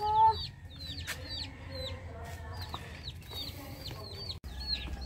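Chickens cluck softly while day-old chicks peep in high, repeated chirps throughout, close by and fairly quiet.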